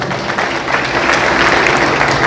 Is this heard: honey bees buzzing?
no